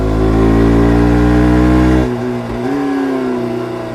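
KTM Duke 200 single-cylinder motorcycle engine revving hard toward the red line, a loud sustained high-pitched wail that holds for two seconds, drops sharply, then climbs again with no talk.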